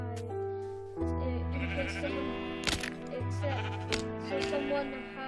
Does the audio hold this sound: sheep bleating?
yes